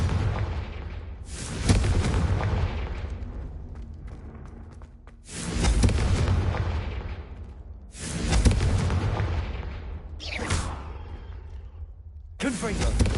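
Booming fire-spell blasts from the Confringo curse in the Hogwarts Legacy video game, several loud explosive bursts in sequence with rumbling decays, close and heavy, with speech mixed in among them.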